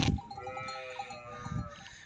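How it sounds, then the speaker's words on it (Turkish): Sheep bleat repeatedly at close range as a flock files inside in a village, their wavering calls overlapping in a steady stream with a few louder cries near the start and toward the end. "Abo koyunlarımız da giriyor içeri."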